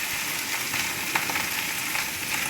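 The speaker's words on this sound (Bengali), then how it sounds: "আমি হালকা হাতে রাইস, সবজি এবং এগ আর চিংড়ি মাছ সব একসাথে ভালোভাবে মিশিয়ে নেব।" Fried rice with vegetables, egg and shrimp tossed in a hot pan, a constant loud sizzle with scattered scraping clicks of the spatula stirring through it, no talking.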